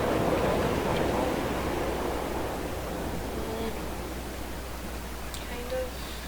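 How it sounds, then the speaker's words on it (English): Waterfall in the video game Dear Esther, a steady broadband rush of falling water, strongest at the start and easing slightly, with faint wind-like ambience and no talk. "Waterfall."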